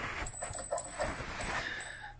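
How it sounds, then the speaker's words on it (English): A small metal gremlin bell hanging on a Can-Am Ryker jingles with a few thin high tinkling rings over road and engine noise while riding. "But there's the gremlin bell."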